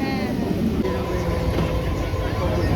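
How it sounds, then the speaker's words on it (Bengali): A Lakshmikantapur local train pulls into a station late at night, its loud, steady rumble and clatter filling the whole stretch close by. "এগারোটা পঁচিশ এই এলো লক্ষ্মীকান্তপুর লোকাল"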